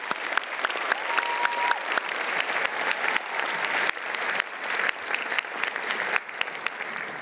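Steady audience applause at a student awards ceremony, continuous dense clapping from a sizable crowd filling the whole stretch without any voices.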